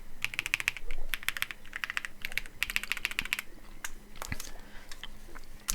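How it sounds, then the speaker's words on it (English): Rapid bursts of typing on a mechanical keyboard fitted with cream switches, crisp and clacky keystrokes in quick clusters with short pauses, close and fairly loud, with no talking. "And I just love these cream switches here, listen."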